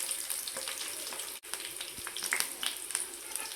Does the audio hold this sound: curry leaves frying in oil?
yes